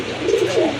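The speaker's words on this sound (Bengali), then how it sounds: "হিউজ সাইজের একটা নর কবুতর" A single soft, throaty coo comes from a huge-sized male Bombay pigeon, close and clear, lasting under a second with no one speaking.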